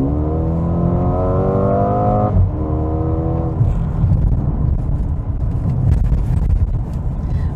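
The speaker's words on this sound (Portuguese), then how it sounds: "eu acho que vale aquela última acelerada" A Mercedes-AMG GLA 35 SUV engine revs hard through a final acceleration, climbing in pitch, then dropping at a gear change before roaring on steadily and loud, close by.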